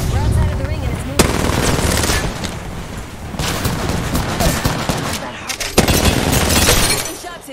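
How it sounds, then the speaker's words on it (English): Rapid gunfire in the battle royale game Apex Legends, near-continuous automatic bursts with breaking, shattering impacts and a few booms, loud and dense throughout, with a voice talking over the shooting. "They're shooting at me!"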